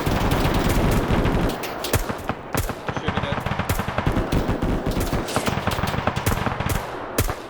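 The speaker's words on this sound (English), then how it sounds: "I'm just suppressing with a machine gun into here." Suppressing machine gun fire in a military video game, loud rapid bursts of automatic shots with short gaps between, sharp cracks repeating throughout over a dense rumbling background.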